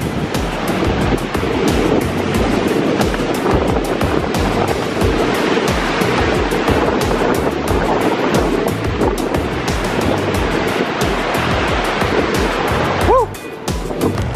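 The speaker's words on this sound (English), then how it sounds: "we're at the river down below" River water rushing below a spot where longboarders gather, a steady broadband roar of flowing water heard close and loud, with faint voices and a short whoop near the end.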